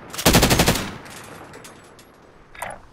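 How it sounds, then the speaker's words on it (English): Automatic gunfire from a video game firefight in Modern Warfare Resurgence on Rebirth Island: one loud, rapid burst of machine gun fire, followed by fainter scattered shots and a brief later burst. "Taking effective fire!"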